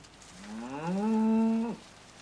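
A single cow on a farm gives one clear, drawn-out moo that swells and then cuts off abruptly. It stands alone over quiet background ambience.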